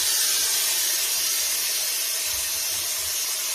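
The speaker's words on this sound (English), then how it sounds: "I'm going to introduce some steam at this stage." A steady, breathy hiss of steam plays onto an old beaver fur felt hat being restored, close and continuous for a few seconds with no voices.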